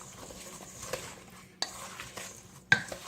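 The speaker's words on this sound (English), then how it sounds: "Mix it together so you want to make sure all the sugar is added in." A spoon stirring blueberry pie filling with lemon juice and sugar in a bowl, making soft, wet scraping with a few sharper taps and clinks against the side, fairly quiet and close.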